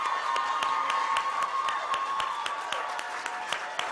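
An audience claps for scholarship recipients at a Black History Month celebration, a steady patter of hands that carries moderately loud and even through the whole stretch, with no talk over it.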